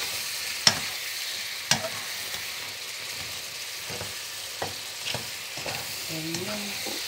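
Butter garlic shrimp frying in a pan, a steady low sizzle with a few sharp clinks and scrapes of a utensil stirring, close by and with no one talking.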